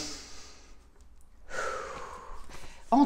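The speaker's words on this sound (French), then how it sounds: "Prenez une bonne inspiration." A single deep breath drawn in slowly, close and soft, followed after a short pause by a longer, louder airy inhale-exhale near the end.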